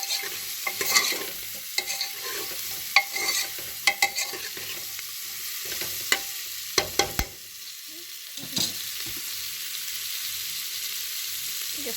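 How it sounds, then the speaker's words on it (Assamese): Carrots, French beans and peas fry slowly in a pan for pulao, a soft continuous sizzle broken by repeated spatula scrapes and clinks against the metal. "এইখিনি লাহে লাহে ভাজি আছে।"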